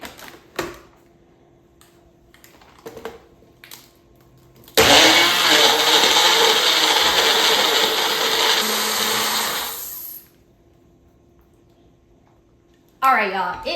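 A kitchen blender grinds ice into a smoothie, a loud, steady whir running for about five seconds. Softer household sounds come before it, and another short burst follows after a pause.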